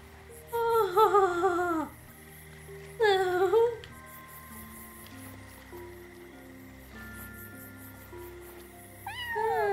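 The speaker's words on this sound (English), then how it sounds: "I heard a cat." A cat in the video game Yonder meows twice in quick succession, clear and fairly close, then again near the end over soft ambient game music.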